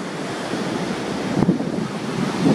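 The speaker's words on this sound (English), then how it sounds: "We're in an actual sea cave right now at San Gregorio." Ocean waves wash and rumble inside a sea cave at San Gregorio Beach, a continuous hiss of surf with wind buffeting the microphone and a couple of heavier surges near the end.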